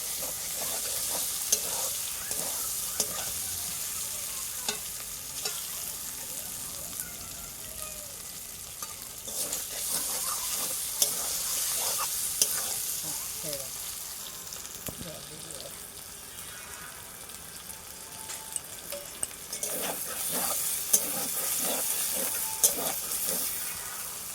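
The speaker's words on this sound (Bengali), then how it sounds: "আলু দিয়ে একটু নাড়াচাড়া করে নেব আলুর সঙ্গে ভালোভাবে মশলাটা কষিয়ে নেবো" Potatoes frying with spices in a pan for potato-egg curry, a long even sizzle and hiss with repeated spatula scrapes and taps as the mixture is stirred.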